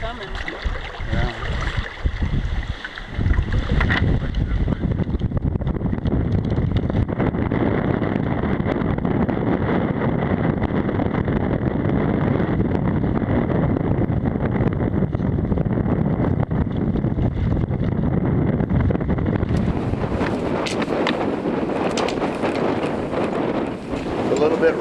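Strong wind roars and buffets the microphone while out on a small boat, a constant loud rushing that swells slightly toward the end, with water and hull noise underneath.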